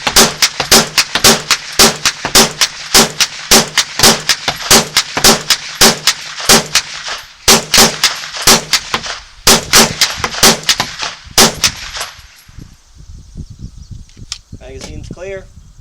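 A 9mm carbine, either a Kel Tec 2000 or a Ruger PC, fires a long string of sharp, loud shots at a fast, fairly even pace before the firing stops and quieter handling sounds follow.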